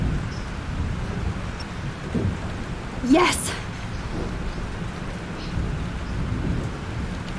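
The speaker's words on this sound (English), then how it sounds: "This storm is real." A thunderstorm with steady rain plays in the video game Life is Strange. Rain hisses continuously and a rolling crack of thunder swells midway, while a voice briefly exclaims over it.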